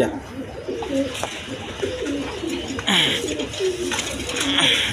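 Large pigeons kept in a pen coo repeatedly in low, throaty rolling calls, several birds overlapping close by over a busy background of rustling and faint chatter.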